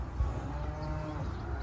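A single low moo from cattle in a herd dispersal lot carries through the short stretch alone, fairly faint and without talk.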